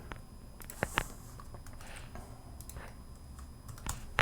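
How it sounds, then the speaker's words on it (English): A computer keyboard being typed on to enter a number in music software, with a rapid, light patter of key clicks over about four seconds, close and fairly quiet. "I'll just type the number in."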